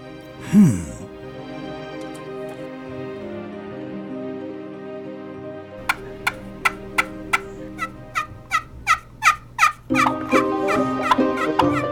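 A large wild gobbler, drawn in by a fan-style turkey call, sounds a loud, close gobble near the start; after a long droning pause, a quick run of about a dozen sharp, evenly spaced clucks and calls builds toward the end.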